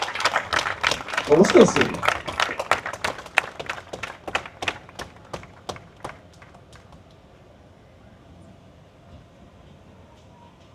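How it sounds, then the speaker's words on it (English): Applause from a crowd at the Eddie Aikau big wave surfing invitational honoring a retiring big wave surfer, rapid claps loud at first then thinning and fading, with a voice speaking briefly over it. "Let's give a big round of applause for Greg Long."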